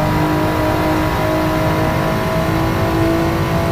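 A Honda NSX engine drones steadily and loudly at speed on Suzuka circuit, its tone held at a near-constant pitch throughout, with no voices.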